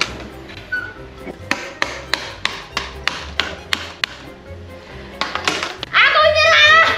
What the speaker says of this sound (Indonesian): Dipalu, guys, biar seret.